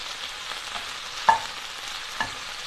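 Greens wilting down in a too-small skillet are stirred, giving a soft background sizzle with two brief scraping clicks of the utensil.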